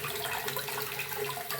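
Homegrown kohlrabi being washed in water, a soft continuous splashing and running-water wash heard close by, faint and without talk.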